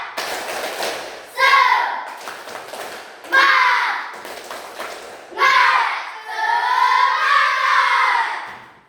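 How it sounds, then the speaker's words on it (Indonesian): A group of children performs a rhythmic 'tepuk semangat' spirit clap in a classroom, in bursts of loud patterned claps and shouted chanting, repeated three times and ending in a long sustained group cheer. "Diulang ya, biar lebih semangat. 1, 2, 3. Tepuk semangat."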